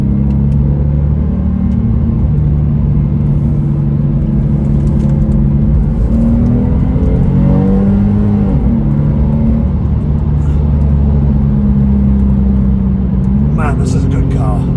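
A Porsche engine drones and revs on the Tail of the Dragon mountain road, with a loud, steady low rumble whose pitch rises and falls through gear changes and acceleration, plus a brief voice near the end.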